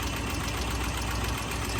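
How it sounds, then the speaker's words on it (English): A 410 cubic inch big-block V8 in a 1958 Edsel Corsair hardtop runs with the hood open, giving a steady, close, rumbling idle with a fine knocking pulse and no talk. "Hood open. 410 cubic inch V8,"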